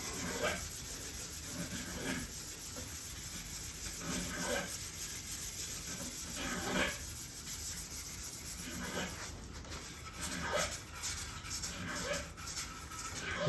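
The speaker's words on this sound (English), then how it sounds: "It sands very easily." Nitor Lack filler sanded by hand, steady close rubbing strokes in a slow back-and-forth rhythm over a constant hiss.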